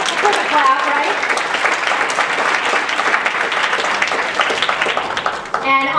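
An audience breaks into loud, sustained applause at a Mass Equality event, dense clapping that holds steady for several seconds before thinning out at the end.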